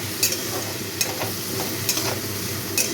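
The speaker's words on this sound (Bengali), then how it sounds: "ভাজাটা এবার একটু নেড়ে দিই।" Vegetables frying with salt in a pan are stirred, a dense continuous sizzle with light scraping strokes of the spoon recurring every second or so, close and fairly loud with no talk.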